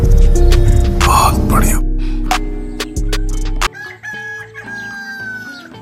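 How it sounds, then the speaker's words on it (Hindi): Desi chickens and roosters in a village setting, loud close clucking with a rooster's crow rising among the birds, over a steady hum and other farmyard noise, with a voice speaking at times. "हमने ये मुर्गियां और मुर्गे भी पाल रखे हैं, देसी मुर्गियां"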